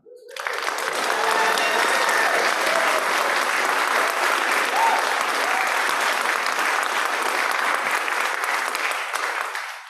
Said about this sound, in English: I can hear you clapping at home.